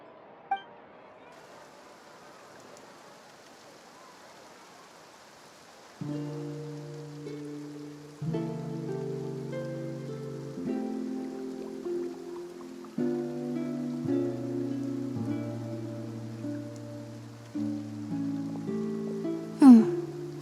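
Light rain patters softly in Fontaine in the game Genshin Impact, a faint hiss that builds under layered, sustained game music, with a sharp clink near the end.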